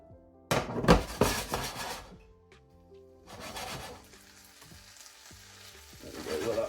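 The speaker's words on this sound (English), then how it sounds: "got that frying sound again" Bulgarian kavarma meat frying in a pan, loud bursts of sizzling and clattering against the pan, then a quieter, steady sizzle that builds again near the end, with no one speaking.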